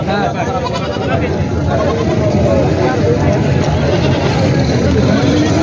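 Osmanabadi goats bleat amid a busy goat market babble at Purna, Parbhani district, Maharashtra, with voices and livestock calls overlapping continuously at close range.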